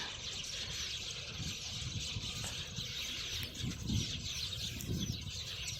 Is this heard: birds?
yes